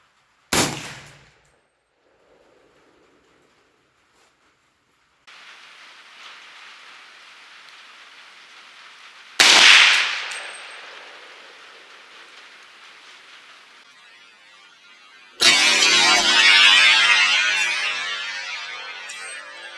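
A short-barreled AK-47 fires full metal jacket handloads at level 4 body armor from about 50 yards, three loud sharp cracks several seconds apart, each trailing into a long rumbling echo over steady background hiss.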